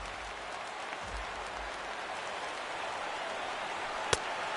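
A stadium crowd of over 39,000 in a baseball video game, a dense, steady roar of cheering and applause with one sharp crack near the end.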